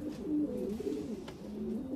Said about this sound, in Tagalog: Long distance pong ibon to.